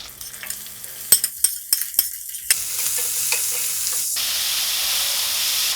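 Curry leaves hitting hot oil set off a burst of crackling and spattering, then settle into a steady loud sizzle with some stirring clinks, close up and with no voices.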